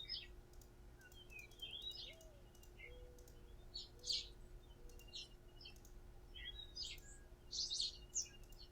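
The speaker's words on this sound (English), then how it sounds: "I hear birds." Birds chirping in a video game, a series of short, high tweets and twitters scattered across the scene, fairly quiet, with soft clicking and a faint steady tone underneath and no talking.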